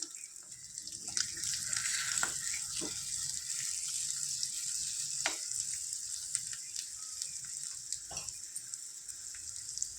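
Eggs with chili powder sizzle in a small tempering pan, a steady close frying crackle with a few sharp pops standing out, no voices.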